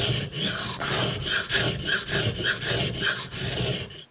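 Steel knife blade, a custom Chris Reeve, stroked across a sharpening stone in a steady rhythmic series of about eight close, gritty rasping passes with no voices.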